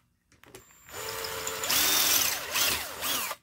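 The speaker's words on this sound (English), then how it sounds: "But there's this metal piece I needed to drill." Power drill boring out a metal rivet on a camping chair leg: the motor spins up, then grinds loudly and steadily through the metal up close, with slight pitch changes as the bit bites.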